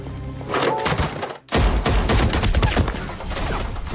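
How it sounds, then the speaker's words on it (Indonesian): A film shootout plays as dense bursts of gunfire and heavy thuds, loud and rapid, with a brief pause in the middle before the firing resumes. "di sana terjadi aksi baku tembak saat itu juga"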